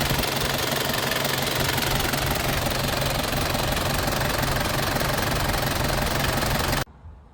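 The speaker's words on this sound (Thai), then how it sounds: "เครื่องฝาแดง DD 25 เครื่องดีนะครับไม่ไอไม่ดันครับ" A 1995 Nissan Big M pickup with its red-top DD25 diesel runs steadily at idle, a loud, close, continuous knocking rumble that cuts off abruptly near the end.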